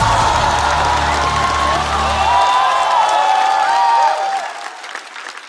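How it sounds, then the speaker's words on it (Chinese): A studio audience at a stand-up comedy versus hip-hop show bursts into warm applause for four rappers, a dense sustained clapping with some cheers that gradually thins out and fades toward the end. "来，让我们把热烈的掌声送给4位优秀的 rapper。"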